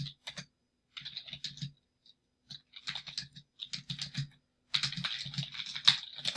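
Fingers typing on a computer keyboard during a live chemistry lesson: irregular bursts of close, crisp key clicks separated by short pauses, with a denser run of typing near the end and no voices.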